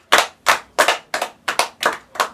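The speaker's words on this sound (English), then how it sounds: "Can we clap for her?" A classroom of children clapping together for a student, eight sharp, evenly spaced claps in a steady rhythm, close and loud with no talk.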